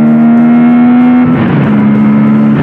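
An Aprilia Tuareg 660 motorcycle engine revs up hard and holds near its limiter, a loud, steady high-pitched drone with a brief shift in tone midway.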